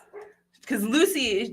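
A pet dog barks loudly and close by during a LEGO live-stream chat, giving a drawn-out, wavering bark-howl right after a brief spoken word.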